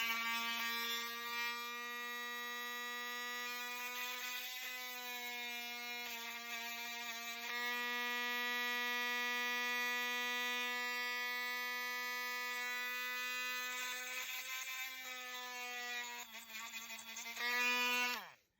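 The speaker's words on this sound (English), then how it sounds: "And then I'm just going to take my Dremel tool here and go into it." A Dremel rotary tool drills holes into washi tape earrings. Its steady, high-pitched whine stays close and loud for most of the stretch, with small dips where the bit catches the work, before it spins down at the end.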